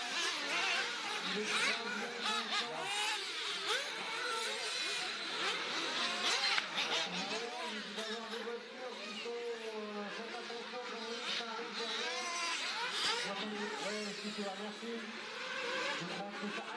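A 1/8-scale nitro RC race car, a Mugen, races at a national championship final in Bergerac, its high-pitched engine revving and whining at mid distance under continuous French commentary.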